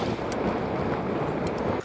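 Wind roaring over a microphone while cycling at about 45 to 48 km/h, a loud, constant low buffeting rush with no pauses that drops off abruptly at the end.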